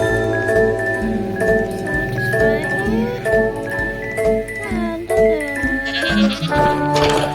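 Goats in the video game Minecraft bleat repeatedly in wavering, nasal cries over steady game music, several calls overlapping near and loud with no talk.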